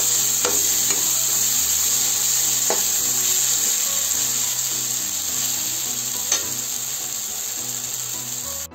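Matar nimona (pea curry) sizzling and hissing steadily in a hot pan, with occasional scrapes and clinks of a utensil stirring, close by.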